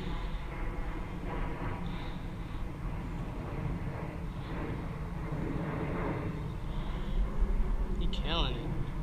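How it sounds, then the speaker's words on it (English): A steady low roar of a plane passing overhead, heard under continuous background noise, with some faint activity nearby. "that is a plane going above my head"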